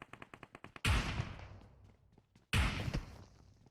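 Gunfire in the mobile battle-royale game PUBG Mobile: a rapid burst of automatic shots followed by two heavy, booming single shots with echoing tails, moderately loud.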